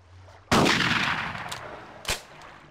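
Shotgun fire in the video game Carnivores Genesis: one loud, booming blast with a long rolling decay, then a sharper, smaller crack about a second and a half later, with no talking.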